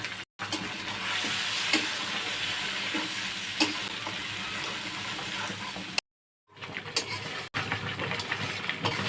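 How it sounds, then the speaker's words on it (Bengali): Mustard paste sizzles and spatters in hot oil with a little water and occasional stirring scrapes; the frying hiss is steady, broken by a couple of brief silent gaps. "এখন আমি অল্প জল দিয়ে সর্ষে বাটা কষিয়ে নেব"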